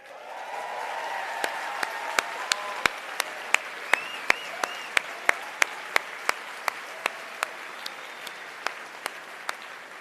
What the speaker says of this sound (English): I was going to ask you to give them a round of applause, but you already have done